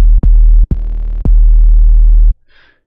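Punchy 808 bass patch built in Serum, with oscillators dropping sharply in pitch: three deep booming hits, each opening with a sharp click attack and then a long sustained low tone, loud, followed by a brief faint tail.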